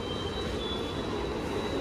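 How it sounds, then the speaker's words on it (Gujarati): A Mumbai local train pulls into the platform at midday on the Matunga to Churchgate line, producing a steady, loud rumbling roar of wheels and carriages with a thin, high, sustained whine running over it. "તો આપણી ટ્રેન આવી ગઈ છે, જોઈ શકો છો"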